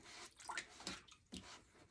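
A water transfer for crafting is swished in a small cup of water, with soft sloshing, light splashes and a few drips over about two seconds.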